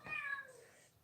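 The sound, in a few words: cat meowing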